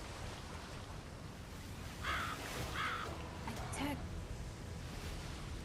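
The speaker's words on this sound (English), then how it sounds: "I think crow's actually crowing." A crow caws several times at a distance, faint and brief, over a constant loud wash of wind or surf in a game setting.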